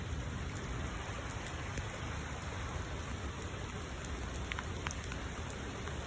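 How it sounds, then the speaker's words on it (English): Heavy rain falls outdoors in a dense, constant hiss of drops striking surfaces nearby, with a few sharper individual splashes and a high steady whine in the background. "Uh-oh, it's raining heavier."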